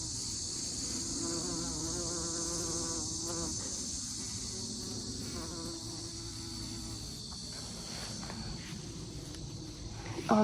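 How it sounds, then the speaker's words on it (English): A dense, steady buzz of many bees in a garden fills the air, a constant close hum that never lets up, with no voices. "Can you hear all the bees?"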